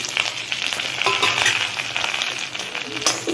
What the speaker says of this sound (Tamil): இது நல்ல கோல்டன் ப்ரௌன் வர அளவுக்கு நல்லா ஃப்ரை பண்ணி எடுத்துக்கோங்க